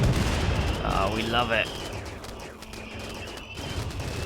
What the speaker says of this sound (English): Any second now, you guys want to start firing?